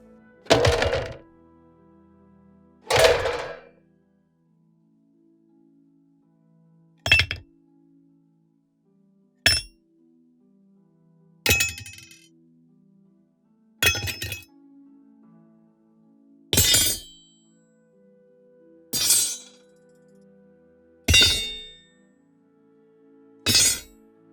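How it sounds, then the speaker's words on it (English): Melee weapons and metal sheets are dropped one at a time for a sound effect library, ten separate sharp crashes and clanks with metallic ringing, each followed by silence, spaced a couple of seconds apart. "Let's listen to the drop sounds first."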